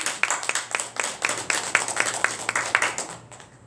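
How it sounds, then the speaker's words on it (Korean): A church congregation claps in unison at a steady, rhythmic beat, each clap distinct and evenly spaced, moderately loud in the room, with a faint low hum beneath. "우리 박수 한번 하시죠."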